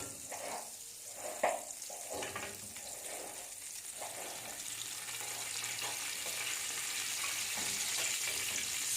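Turkey escalopes frying in a pan of heated oil and margarine give a soft, steady sizzle that builds gradually, with a few faint clinks of utensils early on and no talk.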